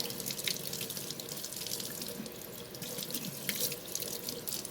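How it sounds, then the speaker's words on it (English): Tap water gushes steadily over a Saker 3-in-1 vacuum cleaner filter at a sink, a continuous close splashing hiss with small spattering bursts and no voices. "we are going to run this filter under some water so we can get it all nice and clean"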